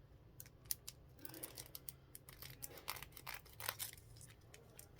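A package believed to hold stickers is opened by hand, giving a quiet run of crinkling, snipping and tearing bursts over a low steady hum, with no talking.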